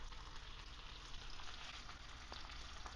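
Ribeye steak sears in a hot pan with a steady, dense sizzle and frying crackle, close and continuous with no talk.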